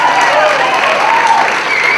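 Audience applause fills a hall at a 2007 arts and law event as a final act is welcomed, a steady, dense clapping that holds evenly from start to finish.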